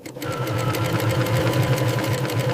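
An automated sewing machine stitches a stingray leather watch strap with waxed high-tensile thread, a steady close mechanical hum with fast regular needle clatter throughout.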